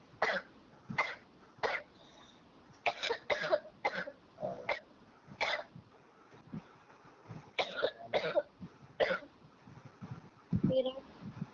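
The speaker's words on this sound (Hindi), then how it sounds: "खांसी।" Someone coughs over and over, short sharp bursts in an irregular run with brief pauses between, fairly faint and close.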